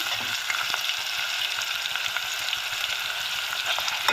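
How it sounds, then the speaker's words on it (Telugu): Potato and carrot fry in a pan with a loud, continuous sizzle, while stirring adds soft scraping and clicking against the pan throughout, with no talking. "ఆలుగడ్డ అండ్ క్యారెట్ వేసుకుందాము."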